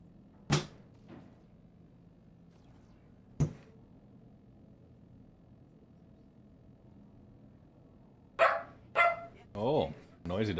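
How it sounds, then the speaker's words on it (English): Dogs bark in a sequence: two sharp isolated barks early on, then a close cluster of several barks and a yip toward the end, with a faint background hum between them. "Oh, noisy dogs."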